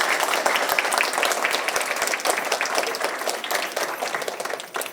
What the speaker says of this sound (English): Boys and girls, let's give our reader a round of applause